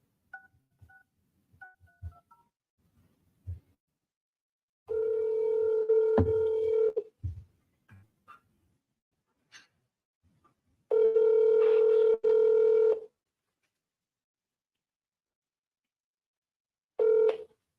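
Short electronic telephone dialing beeps tap out a number in quick bursts, then a steady ringback tone sounds in two long pulses with a shorter third at the end, separated by near silence.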